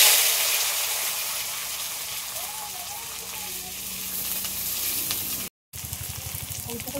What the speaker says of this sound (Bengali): এই আলুগুলো এই তেলের মধ্যে ভেজে নেব।